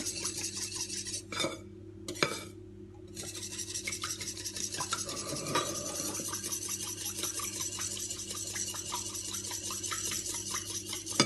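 A utensil scrapes and clinks against a bowl while broccoli muffin batter is being mixed, a steady close rasping stir with a few sharper taps near the start and no talk.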